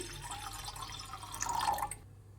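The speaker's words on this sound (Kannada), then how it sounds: "ಒಂದು ಎರಡು ಗ್ಲಾಸ್ ಅಷ್ಟು ನೀರು ಹಾಕ್ಕೊತಾ ಇದ್ದೀನಿ" Water trickles and splashes as about two glasses are poured into a heated pot, a short soft stream that stops abruptly near the end.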